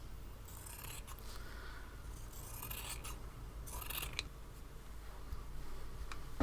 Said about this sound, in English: I can now trim off the surplus before I start stitching